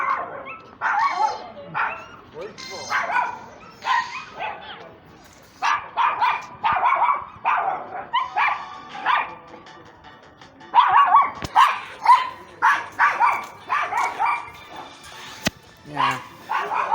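Many dogs indoors bark and yip in loud overlapping bursts, with brief lulls between rounds, all close by.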